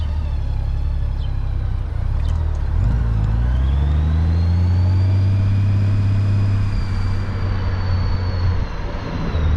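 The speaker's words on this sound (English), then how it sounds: "Very smooth engine, very quiet engine." A 2009 Honda Goldwing motorcycle running while ridden, a loud, smooth low engine drone with a rising tone as it pulls away, wind and road noise steady throughout.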